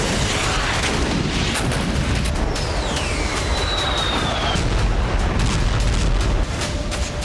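Booming artillery bombardment from Russian forces shelling Ukrainian cities, a dense continuous rumble of blasts heavy in the low end, with a high whistling streak passing overhead midway.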